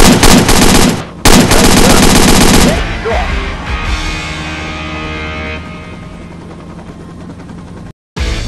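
Rapid bursts of gunfire ring out loud and close during a helicopter hog hunt, with helicopter rotor and engine noise beneath; the firing stops after about three seconds and the aircraft drone carries on alone.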